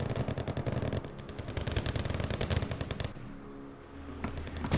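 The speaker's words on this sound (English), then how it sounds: "Just sort of doing a bit of a gun duel. You know, with the medium machine guns they both have." Sustained rapid bursts of medium machine gun fire in the video game Wargame, as two armored vehicles such as a BTR-60P trade shots, loud and continuous before a short lull and another burst.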